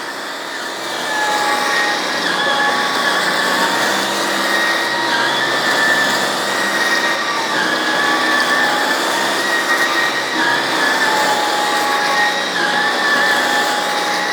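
Hoover ONEPWR Emerge Pet and Shark Stratos cordless vacuums rolling over carpet, a loud, steady high-pitched motor whine with shifting tones that holds throughout, close and with no voices.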